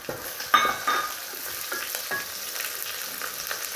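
Curry leaf sprigs crackling and sizzling in hot oil for sambar, with a few sharp pops at first settling into a steady close frying hiss as they are stirred; no one talks.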